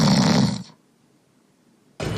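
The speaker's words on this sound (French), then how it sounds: "Effectivement, ronfler n'est pas signe d'un bon sommeil." A person snores in two loud, close, rasping breaths, one at the start and another beginning near the end, separated by a near-silent pause.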